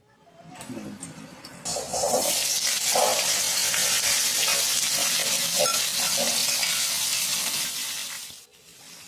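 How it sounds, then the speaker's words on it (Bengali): Salted, turmeric-coated shrimp hit hot oil in a wok and burst into a loud, continuous hiss and crackle that swells in after a couple of seconds and holds steady, then dies away near the end. "কড়াতে তেল গরম করে বেশ লাল লাল মতো করে চিংড়ি মাছগুলোকে ভেজে তুলবে"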